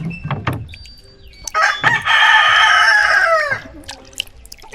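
A rooster crows loudly for about two seconds, with a few chicken clucks before and after it, close by, on a farm in the Philippines.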